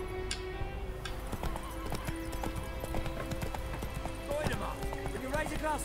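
Horse hooves clip-clop in rapid galloping rhythm in The Witcher 3: Wild Hunt, with a whinny and game music, while someone talks over the action.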